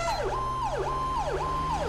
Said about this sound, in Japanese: いや、サイレンも2つついてるのでね、